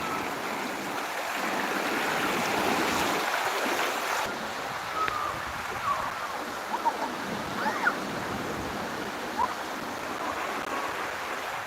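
Steady rushing water pours out of a pond outlet in a continuous broadband wash, fairly close and even, with a few small splashy surges partway through.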